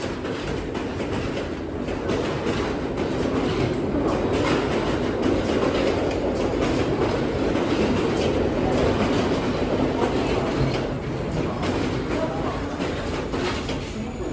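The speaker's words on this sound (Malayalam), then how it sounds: "അത് കൊളംബോ ഫോർട്ടിൽ നിന്ന് ബാദുലയിലേക്ക് പോകുന്ന നൈറ്റ് മെയിലാണ്" Night Mail train running from Colombo Fort to Badulla, a steady loud rumble of rolling wagons with rhythmic clickety-clack of wheels on the rails, continuous and close throughout with no talking.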